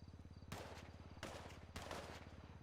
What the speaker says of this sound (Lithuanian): norėčiau, kad ištrauktumėt ginklus ir atiduotumėt pagarbą, iššaudami 6 šūvius į dangų